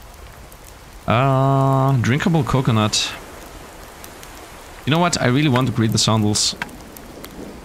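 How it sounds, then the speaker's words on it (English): Rain in the tropical island survival video game Card Survival: Tropical Island, a steady soft hiss of rainfall running constantly under two stretches of someone talking. "Nice, it's raining again."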